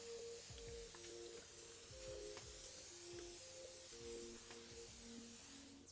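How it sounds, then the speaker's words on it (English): Makeup setting spray is misted over highlighter to set it: soft, faint hissing spritzes in a few short bursts, heard close and quiet. "you need setting spray"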